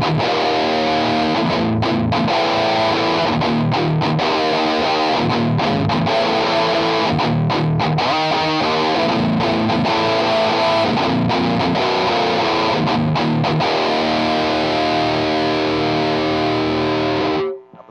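Electric guitar run through a Cuvave Cube Baby pedal's amp simulation with moderate gain, playing loud distorted chords and riffs continuously for most of the span before cutting off abruptly, with no talking.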